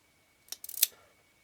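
A short series of quick mechanical clicks and ratcheting scrapes from winding the film advance lever of a Leica M4-2 camera with a stuck shutter, close and crisp, lasting under a second against near silence.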